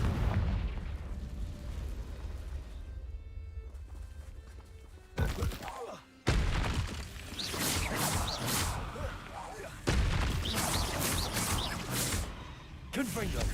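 Confringo blasting curse in Hogwarts Legacy: several loud fiery blasts burst out one after another over a low ambient bed, each followed by a crackling, roaring spread of sound.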